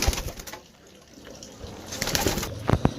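Several pigeons of the same breed coo softly and repeatedly up close, with throaty low calls and a few rustling sounds in between.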